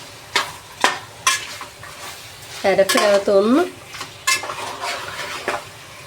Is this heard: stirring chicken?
yes